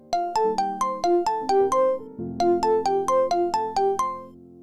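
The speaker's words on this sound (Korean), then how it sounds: "그때 핸드폰이 울렸어요." A mobile phone rings with a bright melodic ringtone, a quick run of plucked notes that repeats twice, loud and close with no talking.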